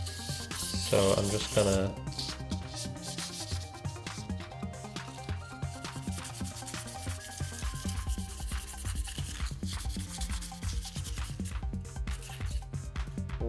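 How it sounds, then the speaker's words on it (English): Fine sandpaper lightly roughing up a modular synth panel, a steady soft scratchy rubbing that runs continuously at close range, with someone talking briefly over it near the start. "I'm using this really fine sandpaper. You don't want to use super rough sandpaper"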